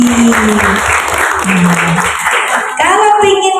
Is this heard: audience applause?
yes